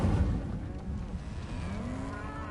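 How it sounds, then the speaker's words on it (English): A Highland cow in the video game Hogwarts Legacy gives one long, low moo that slowly rises in pitch, close and clear over faint background sound. "Is that a big Highland cow?"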